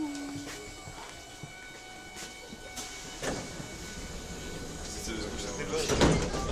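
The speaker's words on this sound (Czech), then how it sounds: "Dveře se zavírají." Inside a Prague metro car, type 81-71, a short tone sounds, then sliding doors thump shut amid the rumbling hum of the train.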